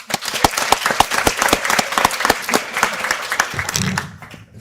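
An audience applauds the graduating class at a summer certificate ceremony, many distinct hand claps blending into lively, fairly loud applause that tapers off toward the end.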